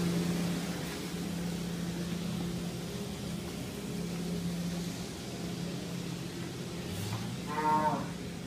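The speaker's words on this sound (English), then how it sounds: "Angus cows." Angus cattle on a dairy farm, with a single low moo rising near the end over a steady background hum of farm machinery.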